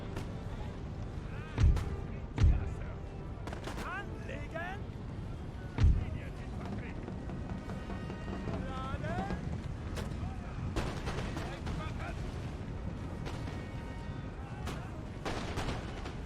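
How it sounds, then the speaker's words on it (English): Several distant booming cannon shots in the video game Empire: Total War ring out separately amid a busy battle din of crackling gunfire and clatter, with someone talking throughout. "Oh, nasty hit there by the cannons."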